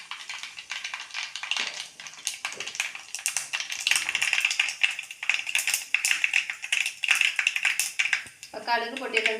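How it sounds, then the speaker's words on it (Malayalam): Mustard seeds crackle and pop in hot coconut oil in a pan for a Kerala drumstick-leaf curry, a dense run of sharp close clicks and snaps that keeps going steadily. "കടുക് ഒന്ന് പൊട്ടി വരട്ടെ."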